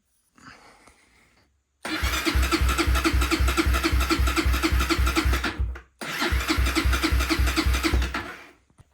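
Honda CRF230 motorcycle engine cranking with key on and choke up but failing to start, a rapid rhythmic starter chug in two long bursts separated by a short pause, loud and close.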